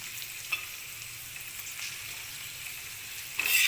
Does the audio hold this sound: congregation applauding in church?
no